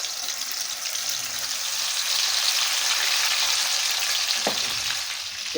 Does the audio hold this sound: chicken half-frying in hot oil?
yes